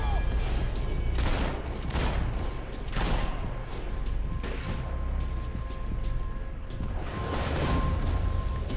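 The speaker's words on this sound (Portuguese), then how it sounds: "eu atirei e não pegou o tiro." Rapid bursts of gunfire from the video game Max Payne 3, several loud volleys spread through the stretch, with faint talk in the background.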